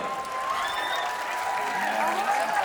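Audience at a New York concert breaking into sustained applause, a continuous wash of many hands clapping with faint cheers and voices woven through, fairly loud and even.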